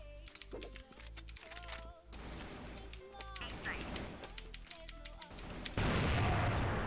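Rapid gunfire bursts and booms from a competitive shooter video game crackle throughout, mixed with clattering keyboard typing and someone talking over the action.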